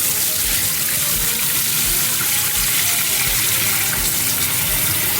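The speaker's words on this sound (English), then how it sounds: "now we're gonna put our water to cook our rice" Water pours steadily into a cooking pot over uncooked white rice, a continuous close splashing gush that runs for several seconds without any talk.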